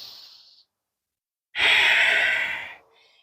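During a yoga twist, a single long, breathy exhale rushes out clearly and close, bracketed by a brief softer breath before and after.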